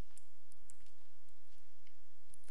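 Fingers typing on a computer keyboard make a short run of light, close key clicks in an uneven rhythm, quiet and alone against a faint background hum.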